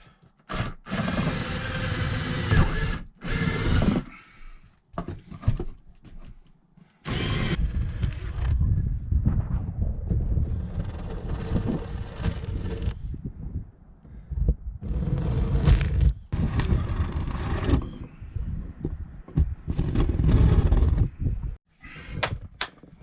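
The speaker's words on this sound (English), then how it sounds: "We are going to put pilot holes in each one of these corners" A power drill bores pilot holes into the corners of an RV roof in several whirring, grinding bursts of a few seconds each, loud and close, broken by short pauses and handling noise.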